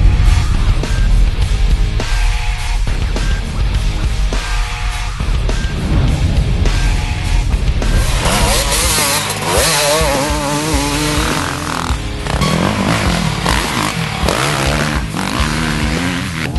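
Husqvarna enduro motorcycles race at a national enduro event, engines buzzing loud and close with shifting revs and gear changes, a continuous high-pitched two-stroke whine throughout.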